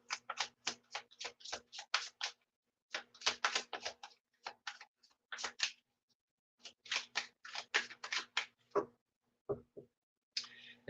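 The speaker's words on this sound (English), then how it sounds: "So I'm going to shuffle." A deck of tarot cards is shuffled close up in quick bursts of crisp riffling clicks, with short pauses between bursts and no talk.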